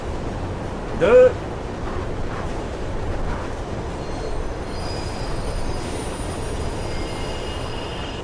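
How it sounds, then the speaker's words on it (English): A train rumbles through a tunnel in the video game Mirror's Edge, with a steady, close, continuous roar and a brief louder clank near the start. "the blues are stopping trains in the tunnels now"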